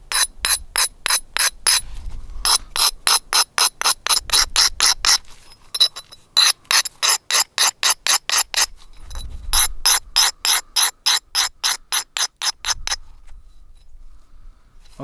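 Flint platform edges being abraded during flintknapping, a fast run of sharp, evenly spaced scraping strokes in two long bursts, close and fairly loud, with no voices.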